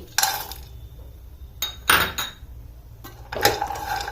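Cashews dropped into a pan of almonds roasting in a little ghee: a few sharp clinks and rattles in short separate bursts, close and clear, against quiet between them.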